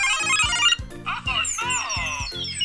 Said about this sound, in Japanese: では改めまして、毒キノコの音声確認いきます。